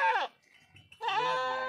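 A Beetal goat kept with her few-days-old kids bleats twice, a short wavering call followed after a brief pause by a longer, louder one, close by.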